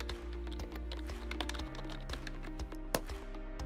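Rapid typing on a computer keyboard, a steady run of close, crisp key clicks with small pauses, heard alone without voices.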